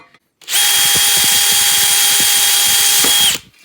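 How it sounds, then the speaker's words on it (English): A power drill whines steadily at high speed for about three seconds as the bit bores through the metal case of a Peerless 820 for a 5/16-18 bolt, with faint grinding clicks underneath, then stops. "drill it through into here"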